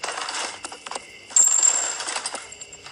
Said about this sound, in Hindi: ये क्या? हाँ, एक सोने का सिक्का।